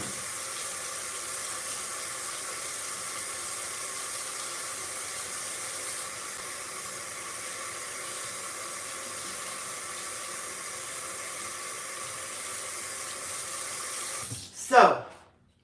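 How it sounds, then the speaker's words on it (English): A kitchen tap runs steadily for about fourteen seconds as hands are washed under it, a constant close hiss that ends with a short splash and clunk as the water is shut off. "I'm washing my hands."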